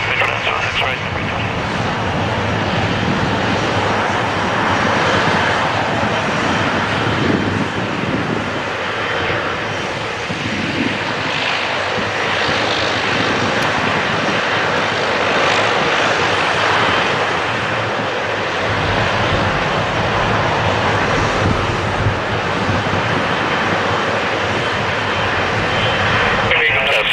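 Airliners roll on runway 6 left at Toronto Pearson airport, a loud continuous jet roar that holds steady throughout, with radio voices faintly in the mix.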